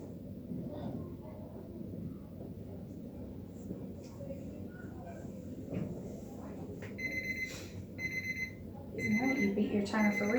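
A timer alarm goes off in a classroom-style reading session, rapid repeating electronic beeps starting partway through and growing louder, over a murmur of background voices.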